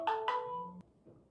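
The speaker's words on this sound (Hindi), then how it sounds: "हम ई फोन के रिंगर ऑफ करब बिसरि गेल छलियै, ताहि लेल कनि बीचमे फोन आबि गेल।" Mobile phone ringtone from an incoming call, a short bright two-note chime repeated twice and then cut off, fairly faint in a quiet room.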